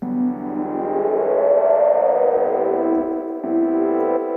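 A sustained synth note glides smoothly in pitch, bending upward then settling, with a brief retrigger near the end; no voices.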